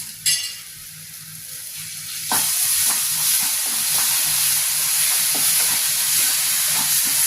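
Almonds and cashews sizzle steadily in hot oil in a pan, a continuous close frying hiss broken by light scraping stir strokes, with no talk.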